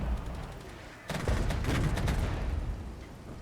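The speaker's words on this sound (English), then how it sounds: "Get some artillery on these infantry." Artillery fire in the war strategy game Regiments: a quieter rumble, then a sudden burst of rapid shell blasts and cracks piling together for about two seconds before easing into a lingering roar, with no talking.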